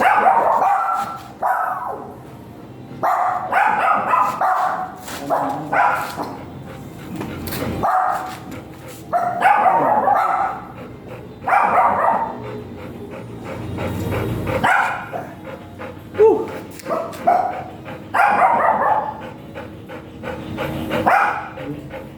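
Several large dogs bark repeatedly in loud, irregular bursts, some yips mixed in, with short pauses between volleys and no talking, at a Golden Retriever stud service in Binalonan, Pangasinan, Philippines.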